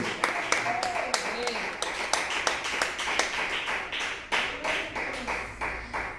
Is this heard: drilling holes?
no